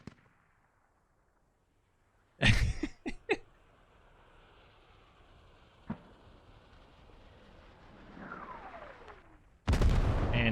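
Hell Cannon artillery fires in a modern military video game set in an urban battle, with a sharp cluster of blasts followed by a lone thud, a whistling projectile, and another heavy boom.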